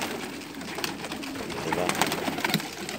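Pigeons at a loft in Umluj, Saudi Arabia, give soft, low cooing calls that run steadily through the whole stretch, mixed with rustling and light handling noise nearby.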